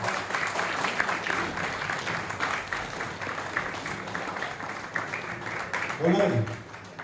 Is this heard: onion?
no